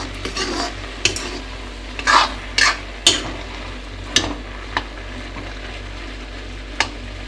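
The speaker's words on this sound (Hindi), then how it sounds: "लास्ट में हल्दी नमक टमाटर और मिर्ची डाल दिए हूँ। अभी बघार हूँ थोड़ा सा ऐसे ठीक है बघार हूँ।" Turmeric, salt, tomato and chili are tempered in a pan in a home kitchen. A faint sizzle runs underneath while a spoon clinks and scrapes against the pan in several sharp, irregular strokes.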